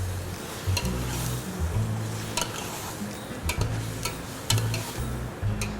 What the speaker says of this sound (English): Just keep stirring that around